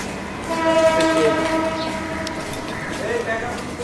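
A passing train rumbles steadily with a sustained horn-like tone, heard nearby over a couple of seconds, with voices faintly mixed in.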